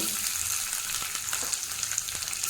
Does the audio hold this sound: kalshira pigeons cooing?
no